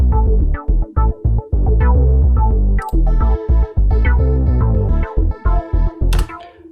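A heavily filtered synth plays choppy rhythmic chords over a deep, loud bass, with the notes cutting in and out in a pulsing pattern and a bright sweep near the end.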